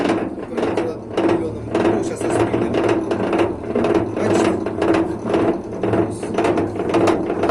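Frames in a beekeeper's honey extractor spin up with a steady mechanical whirring, rattling and rhythmic ratchet-like clicking, loud and close throughout, with no talk over it.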